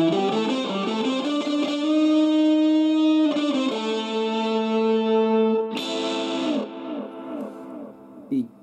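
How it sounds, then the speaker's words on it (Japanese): Sustained electric guitar notes processed through the hall reverb of a Zoom MS-50G multi-effects pedal ring out with long washy tails, shifting pitch in a few held tones before decaying away; no talking. "ホール、リバーブ系ですね。"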